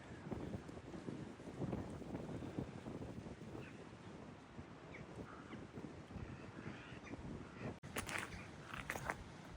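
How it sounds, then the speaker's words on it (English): Blustery wind outdoors near Ripley Castle roars steadily into the microphone as broad rumbling buffeting, with a brief dropout near the end and faint higher sounds after it. "Getting a bit blowy up here now."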